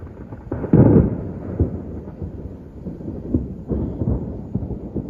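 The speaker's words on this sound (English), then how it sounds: "There's cloud to ground lightning." Thunder from nearby cloud-to-ground lightning during a severe August thunderstorm opens with a close, heavy crack, then rolls and rumbles on with further booms, with faint rain in the background.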